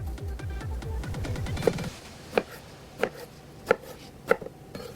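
Eggplant being chopped on a cutting board while making a vegan 'butter chicken': sharp knife strikes land every half second or so, close and distinct, after a stretch of lower rumbling kitchen noise.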